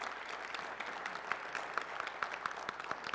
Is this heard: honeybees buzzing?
no